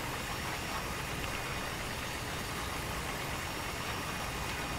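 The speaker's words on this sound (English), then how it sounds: "An awesome old school articulated tractor." DZN Modern 1250 articulated tractor from Farming Simulator 15 holds a steady, droning engine idle with broadband rumble and hiss, unchanging and continuous throughout, with no voices.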